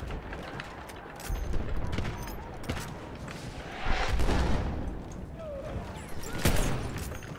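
Martini-Henry rifle fire in the World War I shooter Battlefield 1, with several sharp reports at irregular intervals over a constant battlefield din of distant gunfire and rumbling.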